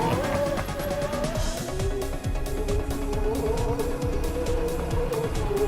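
Rear drive motors of an all-terrain powered wheelchair pull away with a steady, continuous mechanical whir and rumble that stays close and loud throughout, with no talking.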